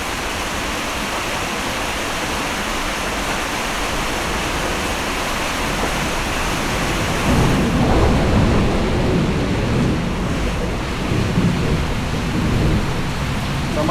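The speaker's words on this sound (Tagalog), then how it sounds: "magpapalipas muna ako ng ulan dito kasi ayoko magbiyahe dahil yung kidlat masyadong mababa" Heavy rain pours steadily during a thunderstorm with low lightning, and a deep rumble of thunder rolls in partway through, loud and close over the constant hiss of rainfall.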